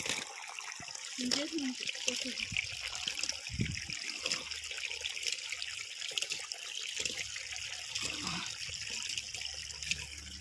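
Water trickles and flows steadily at low volume into an onion field, with occasional voices and brief knocks over the quiet running stream.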